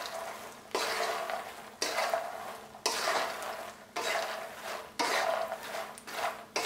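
Makhana tossed with masala and pink Himalayan salt is stirred in a pan, a close rustling scrape repeating in roughly one-second strokes, each sweep followed by a brief pause, with no voices.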